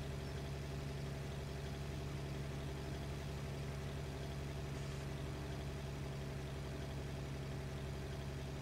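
A tractor engine idles in Farming Simulator 17 on Rathlin Island, a steady low droning hum that runs on evenly and fairly faintly throughout with no breaks.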